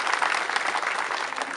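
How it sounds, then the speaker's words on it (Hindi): Audience applause welcoming students at a school or university ceremony, a dense, steady clatter of many hands clapping throughout, fairly close and loud with no pauses. "आइए हम सभी विद्यार्थियों का जोरदार ताली से स्वागत करते हैं।"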